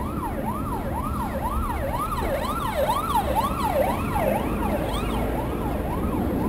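A loud police car siren wails continuously in a rapid rising-and-falling pattern during a car chase, close by, with road and engine noise underneath.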